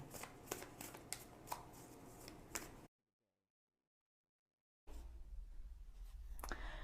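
Tarot and oracle cards are shuffled in two close, crisp stretches of rapid riffling and slapping, split by about two seconds of silence. The sound is quiet overall, and no one speaks.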